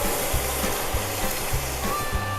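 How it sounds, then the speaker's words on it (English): Hibiscus jelly mixture churns at a full rolling boil in a pot, giving a steady, dense bubbling roar with soft rhythmic thumps from stirring, close and continuous. "this is a full rolling boil. It's one that cannot be reduced when you stir it"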